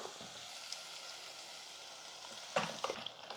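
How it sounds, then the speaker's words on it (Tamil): Ground masala sautéed together with softened vegetables in a pan for Karnataka-style sambar: a faint, steady sizzle and hiss, with a few sharper stirring scrapes near the end. "ஒரு நிமிஷத்துக்கு வந்து இந்த மசாலாவை நல்லா வதக்கிக்கலாம் காயோடு சேர்த்து நல்லா வதக்கிக்கலாம்"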